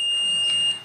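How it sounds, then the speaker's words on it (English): A multimeter on its continuity setting gives a steady high electronic beep as its two probes touch. The tone holds for most of the moment and then cuts off, loud and close, with no talking. "And when it is touched, a beep sound you can hear."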